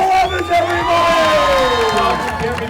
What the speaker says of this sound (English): Get loud and cheer for Daryl Evans,